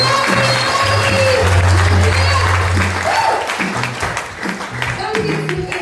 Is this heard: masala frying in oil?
no